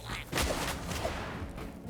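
A sudden explosion booms in the video game Hytale, one sharp loud burst early on that trails into a crackling rumble.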